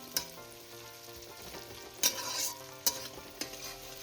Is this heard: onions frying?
yes